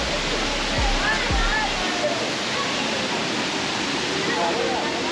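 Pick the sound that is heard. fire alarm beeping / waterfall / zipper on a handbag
waterfall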